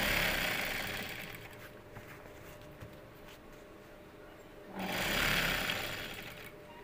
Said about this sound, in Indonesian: Kita jahit lagi.